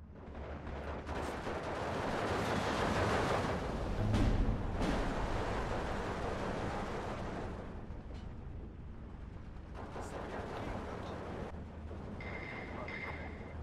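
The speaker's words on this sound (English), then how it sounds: "Let's put in some more artillery across the front here." Artillery barrage in the WWII strategy game Steel Division 2, Iasi campaign with Soviet forces: dense, continuous rumbling booms and blasts, loud and close, swelling to a heavier impact near the middle, then easing into a steadier distant crackle.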